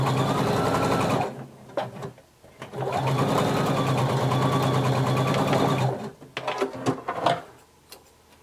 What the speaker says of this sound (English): you're going to sew that together using a 5/8 of an inch seam allowance